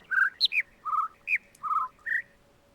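Birdsong in the video game The Witness: a series of clear, short chirps and whistled notes, about eight calls spaced irregularly against a quiet background.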